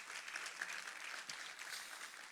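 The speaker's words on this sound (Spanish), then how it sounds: "Denle un fuerte aplauso a Dios" Brief burst of congregational applause in a church service, dense and continuous, with faint voices and cheering mixed into the clapping.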